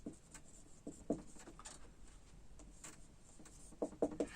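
Marker or chalk writes on a board during a classroom lecture, with faint scattered scratches and taps that grow in short clusters near the end, quiet and close with no talk.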